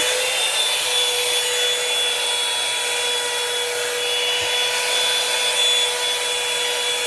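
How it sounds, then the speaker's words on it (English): Continuous steady whirring drone of a blow dryer brush running at constant speed, close up, with a faint high whine and no voices. "since my blow dryer is my brush, here you go. Turn it back on."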